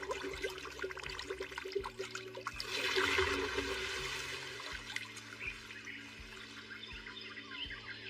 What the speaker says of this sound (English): Water, come forth.